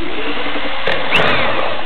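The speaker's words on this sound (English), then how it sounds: "Just from a little drill." A small drill spinning in water to form a vortex whirs steadily and loudly close by, its pitch shifting slightly midway.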